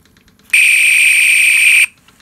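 A Star Trek toy hand phaser fires a single loud, steady electronic tone lasting just over a second, cutting off abruptly.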